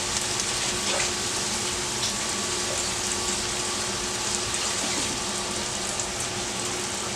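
Chicken frying on medium-low heat in a pan with olive oil and ghee butter, a steady close sizzle that runs evenly throughout with no voices.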